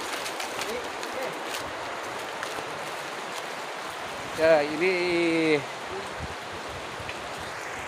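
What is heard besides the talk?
flowing mountain spring river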